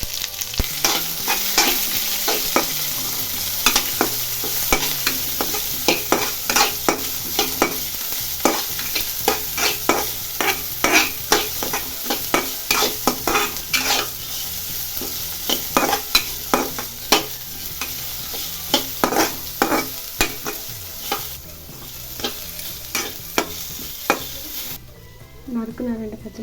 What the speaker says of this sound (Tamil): வெங்காயம் மட்டும் நல்லா வதக்கிடணும்.